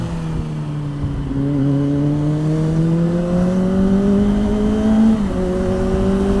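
A car engine revs with a low, steady exhaust drone, its pitch climbing gradually before dipping briefly and rising again, loud and close.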